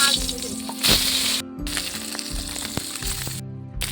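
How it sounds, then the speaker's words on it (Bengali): Small mourala fish, rubbed with salt and turmeric, fry in hot oil in a kadai. A steady close sizzle runs under light crackling, with a couple of abrupt cuts. "মাছগুলো ভাজা হয়ে গেছে, এবার তুলে নেব।"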